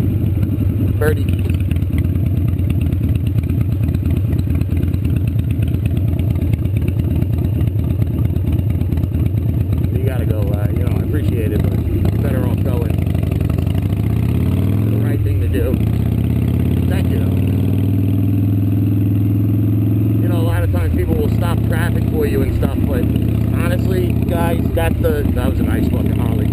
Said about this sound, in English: That was a nice fucking Harley.